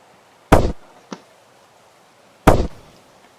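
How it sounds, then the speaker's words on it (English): Two loud, sharp gunshots from the video game Teardown, about two seconds apart, each with a short ringing tail, plus a fainter click between them and no talking. "I'm shooting everything that's in this guy out"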